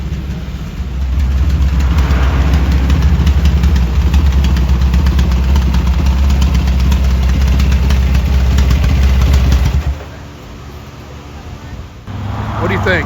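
A Honda Trail CT70 fitted with a 212cc engine runs loud and steady on a mobile motorcycle dyno for about ten seconds, a sustained low droning roar that cuts off abruptly, then faint mechanical noise and a brief return of the engine.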